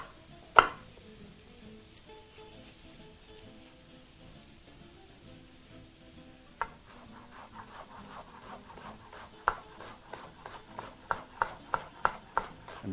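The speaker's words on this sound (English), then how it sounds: "So proceed to slice your onion in half and reserve the rest. And proceed to also chop that very finely." A knife chops an onion finely on a board: after a quiet stretch with one early knock, steady rhythmic chops begin and quicken, with close, crisp taps toward the end.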